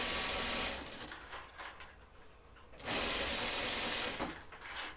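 A sewing machine stitches Hudson pants with ribbed fabric at a lengthened stitch, running in two steady whirring bursts with a brief slowdown between them, close and without talk.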